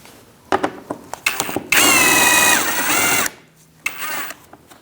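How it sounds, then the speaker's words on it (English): A power tool whirs in one sustained burst on a bolt at the front of a 2000-2006 Mini Cooper, fitted with an 8mm socket to remove a bumper bracket bolt, with short clicks and rattles of handling before and after. "Using an 8mm socket, I'm going to remove this bolt and the same one on the other side."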